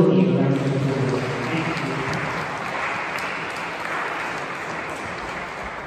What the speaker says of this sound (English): We'd like to give all of you a round of applause